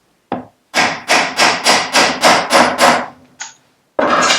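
A metal circlip is tapped into place with a tool on a Smallframe scooter: one sharp knock, then about eight steady loud blows, a lighter tap and a final strike, close up and alone.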